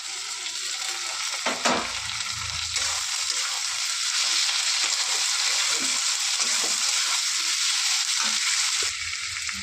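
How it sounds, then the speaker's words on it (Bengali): Tomato and green chilli go into frying onion for a tadka, and a loud, steady hiss of hot oil fills the pan, with a few stirring knocks near the start and end. "এবার এর মধ্যে দিয়ে দেবো টমেটো আর কাঁচা লঙ্কা কুচি।"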